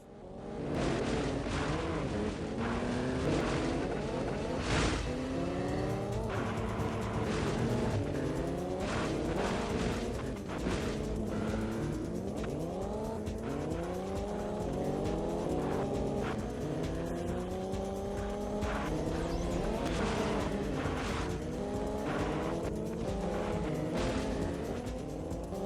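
Race cars roar continuously in Pod, the 1997 racing video game, engines whining up and down through gear changes with occasional tire squeals, loud and steady throughout.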